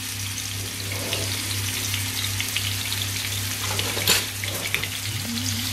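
Onions frying in a pan with Leberkäse meat, a steady, even sizzle and crackle held throughout, with a faint clink of a utensil near the end and no talking.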